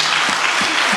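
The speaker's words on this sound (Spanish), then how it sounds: "Ese aplauso a usted, Pichón" Loud, dense applause from a comedy show audience fills the moment, a steady wash of clapping hands with no break.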